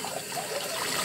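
Tap water runs into a kitchen sink while a cup is washed up, the drain apparently blocked so the water pools; a steady, close trickling and splashing fills the whole short moment.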